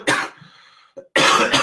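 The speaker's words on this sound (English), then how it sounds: "My cough's going away nicely." Two bursts of harsh coughing from one person, loud and close, separated by a brief throat-clearing pause with no talk.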